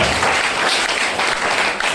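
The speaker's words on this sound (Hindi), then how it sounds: "ताली जोरदार वाली बजाइए" Loud, dense applause from a large audience at a speech event, with continuous clapping sustained throughout at close range.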